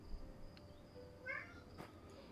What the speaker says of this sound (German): ihr hört nebenbei, die Katze ist hier drin.